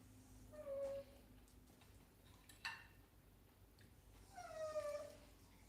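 A dog whimpers in a kitchen while pork chops are cooked, giving two high, thin whines a few seconds apart, faint and close, with a soft tick between them.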